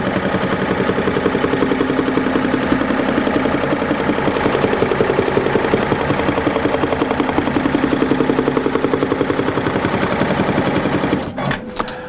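An embroidery machine stitches a custom patch, a steady rapid mechanical clatter running loud and continuous before stopping abruptly near the end.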